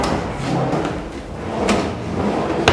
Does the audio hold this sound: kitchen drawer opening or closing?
yes